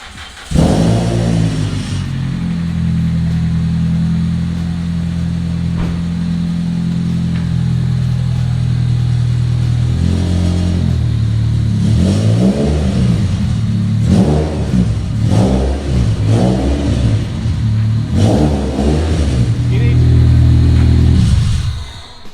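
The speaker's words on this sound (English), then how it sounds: "we'll see how this exhaust sounds" Toyota Celica seventh generation engine, newly fitted clutch, starting up and idling with a low steady rumble through the exhaust, then a series of sharp close revs rising and falling, with a harder blip near the end.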